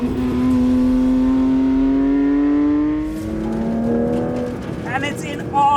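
A Porsche 911 GT3 RS engine with a 9,000 rpm redline howls loud and close, its tone climbing and holding as it revs, then easing off before a brief rise. A voice talks over part of it.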